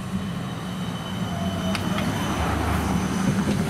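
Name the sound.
tram passing level crossing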